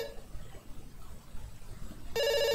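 A telephone rings in a video game: a low murmur of background sound at first, then a loud, bright electronic ring bursts in near the end and keeps going.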